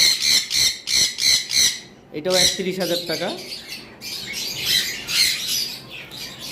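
Sun conure parrots at a breeder's shop give loud, shrill squawks in rapid bursts, nearby, with someone talking briefly in the middle.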